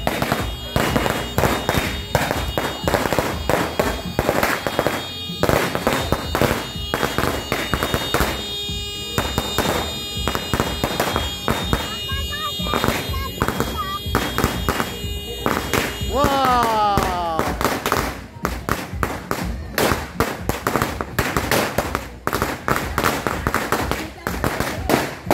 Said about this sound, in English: Fireworks, man!